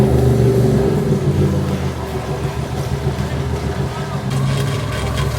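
A 4WD laboring out of a flooded creek on Cape York's Telegraph Track gives off a loud, rough, droning engine rumble with harsh low tones, steady and close, dipping slightly midway before swelling again.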